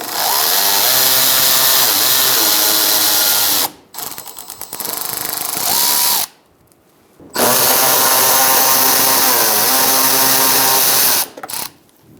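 A power ratchet or driver with a 5.5mm socket removes a bolt from the thermostat housing of a 2000-2007 Ford Taurus 3.0L V6, loud close whirring in several bursts separated by short pauses and clicks.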